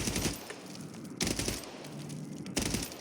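Rapid automatic bursts from an SVA 545 rifle in Warzone, three loud sustained volleys separated by brief pauses, each opening with sharp cracks.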